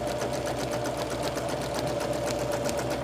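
A sewing machine runs steadily and close by, quilting straight seams on a patchwork pillowcase, its rapid needle chatter holding an even, unbroken rhythm throughout.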